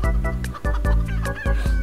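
Chickens fighting in the game CHKN, with close, loud clucks and squawks in quick bursts over a low rumbling background.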